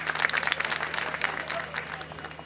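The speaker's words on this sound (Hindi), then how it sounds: "आप सब भी स्वागत कर दें, तालियों से अच्छा रहेगा।" Supporters at a political rally in Gonda break into dense, continuous applause, loud and close, with the clapping crowd filling the short burst from start to end.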